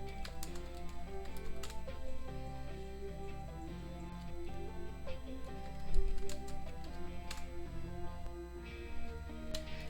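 Rapid typing on a computer keyboard, a dense run of light clicking keystrokes over a steady background hum, close and continuous, with no talk.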